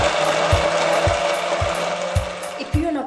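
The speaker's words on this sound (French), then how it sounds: "je les laisse refroidir avant de les passer au mixeur" A kitchen blender whirring steadily as it purees cooked peas with two spoonfuls of milk, a loud continuous motor drone with faint periodic clunks and rattles of the jar, no talking.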